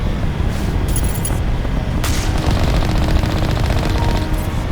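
Rapid turret gunfire from the Mass Effect Legendary Edition shooter on Asteroid X57, a dense, loud, continuous stream of automatic shots with sharp bursts, fired without a break through the whole stretch.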